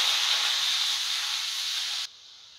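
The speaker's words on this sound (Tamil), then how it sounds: "கடுகு பொரிஞ்சிடுச்சு, நம்ம ஆனியன் சேர்த்துக்கலாம்." Onions tipped into hot oil with popped mustard seeds sizzle in a dense, steady hiss for about two seconds, then the sound drops away abruptly to near silence.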